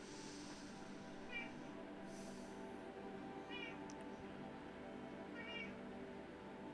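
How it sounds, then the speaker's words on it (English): A cat meows three times, faint and spaced about two seconds apart, over a steady low hum of background room noise. "And the cat has awoken."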